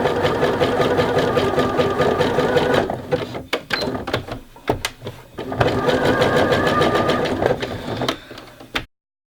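A sewing machine runs a narrow zigzag stitch on lace trim in two steady, fast whirring bursts, with a brief pause of clicks and stops between them; close and loud, no talking.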